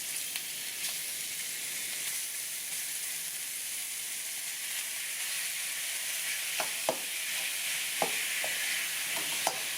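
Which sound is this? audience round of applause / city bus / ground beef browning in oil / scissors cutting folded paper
ground beef browning in oil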